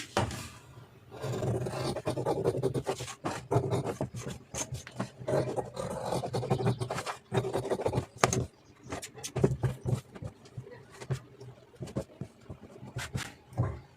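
Scissors snipping through blouse fabric on a tailoring table, a dense run of quick rasping cuts and rustles in bursts, close and moderately loud, ending in sharper separate snips.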